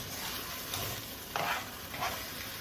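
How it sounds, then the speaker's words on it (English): Constant sizzle in a frying pan of beef and broccoli stir fry sauce with added warm water, broken by two brief scraping swishes of a spoon stirring through it. "And then you just give it a stir"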